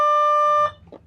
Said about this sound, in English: I'm at a school, so there will be loud beeps and buzzes that will disrupt my train of thought and comments